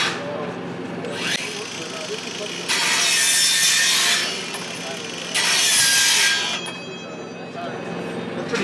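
A Bosch CSM 180 metal cutting saw slices through metal studs, its high whining cut rising in two loud bursts over a steady motor drone, with lighter grinding between them.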